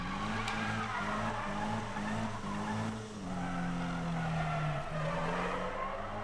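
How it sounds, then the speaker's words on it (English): Car in Need for Speed on PS4 spinning donuts, engine droning steadily while tires squeal and skid in long sliding bursts, loud and close with the engine pitch falling and rising. "Doing donuts again."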